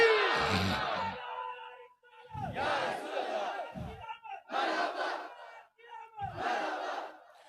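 A crowd at a religious sermon gathering roars in unison in response to a takbir call, giving four loud collective shouts separated by brief pauses.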